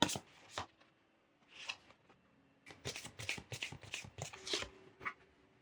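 Oracle and tarot cards shuffled by hand for a reading, with quiet bursts of riffling and flicking that come and go in short bunches, close up, with no talking.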